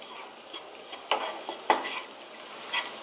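Spiced lamb samosa filling with turmeric, coriander, chili and cumin frying in a pan, a steady close sizzle broken by two sharper scrapes of stirring.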